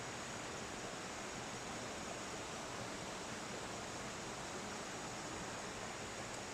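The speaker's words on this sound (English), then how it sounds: "you definitely hear the sound of the creek from our home and from the deck" Steady broadband rush of a creek running below a homestead in the rainy season, a constant even wash of flowing water with no voices.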